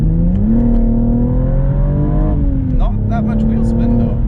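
A BMW M135i accelerates hard with a loud, rising engine note that climbs steadily in pitch, staying close and dominant throughout while a voice speaks over it.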